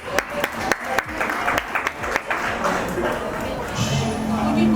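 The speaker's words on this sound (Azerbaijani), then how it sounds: "Xahiş edirəm, alqışlarla Mehriban Hanım'ı qarşılayaq." A fashion show audience breaks into applause to welcome a guest, starting with a few sharp separate claps that quickly swell into steady, dense clapping from a crowd, with voices faintly mixed in.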